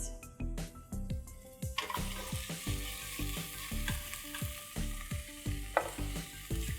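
Goat meat and cinnamon sticks hit a hot pan with onions for a Moroccan stew, giving a loud, steady sizzle broken by repeated scraping and stirring clatter close up.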